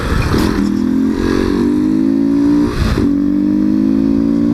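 A Honda XRE 190 motorcycle fitted with a BMW 310 exhaust revs hard on a street, loud and close, climbing in pitch twice with a sharp cut between pulls.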